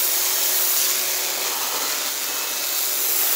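Lavor Smart Plus 130 pressure washer blasting water to remove mould and dirt, a dense continuous hiss and spray noise held steady and near throughout, with no talking.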